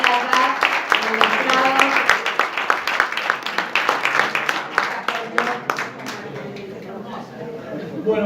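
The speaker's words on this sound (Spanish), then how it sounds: "Le vamos a dar un fuerte aplauso" Audience applause at a political gathering, sustained dense clapping that carries for most of the stretch before thinning out, with a voice talking over it.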